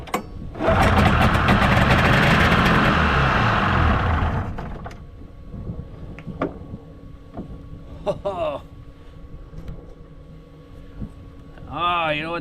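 A snowmobile engine sputters to life with a loud, steady rough roar lasting several seconds, then cuts back to a low idle as someone talks nearby.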